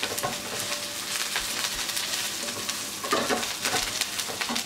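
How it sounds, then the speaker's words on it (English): Curry leaves and cilantro stirred into chicken frying Andhra style, a dense, loud crackling sizzle with frequent spatters and a spoon working through the pan, close and without talk. "I'm going to add some curry leaves and some cilantro and let it mix"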